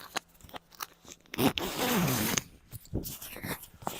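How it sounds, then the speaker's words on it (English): A zipper on a winter coat is pulled open outdoors on a snowy walk around a lake in Regina, giving a scratchy rasping run of about a second, surrounded by rustling fabric, clicks and handling noises close to the microphone. "Open that up. I have to unzip my..."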